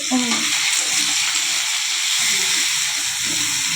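Green chilies, onion, ginger and garlic frying in a pan give a steady, even hiss and sizzle from start to finish, with a faint voice briefly at the beginning.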